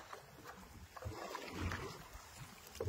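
River water laps and sloshes around a small fishing boat during a hilsa fishing trip in light rain, a steady low wash of water mixed with wind rumble. It is close and continuous, with no speech.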